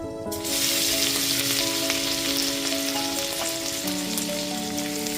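Ginger, garlic and green chilli paste frying in a pan over a low flame for chicken curry, a dense continuous sizzle starting abruptly and holding steady and fairly loud, with faint clicks and a low background hum.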